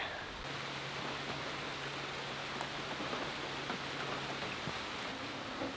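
Steady rain from a thunderstorm falls as a dense, even hiss with scattered drop patters, continuous throughout and no one speaking.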